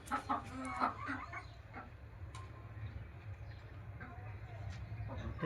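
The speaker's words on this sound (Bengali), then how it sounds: "এই মুরগিগুলো দেখুন।" Hens clucking in a poultry shed, several soft calls close by at the start, then a steady low hum of the shed with occasional faint clucks. A person speaks briefly.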